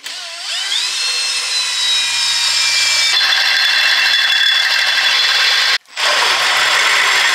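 Power drill boring holes in a Land Rover Defender suspension part for a custom rear link setup, a loud steady whine that winds up, runs continuously and cuts out briefly near the end before resuming.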